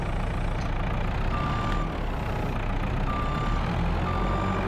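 A forklift reversing in Farming Simulator 22, repeated steady electronic beeps sounding over a loud, constant low engine rumble.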